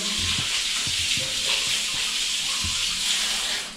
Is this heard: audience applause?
no